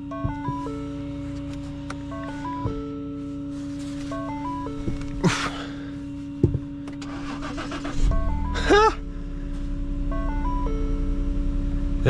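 A Mercedes car engine cranks amid dashboard warning chimes and clicks, then catches and starts, settling into a steady idle rumble for the last few seconds.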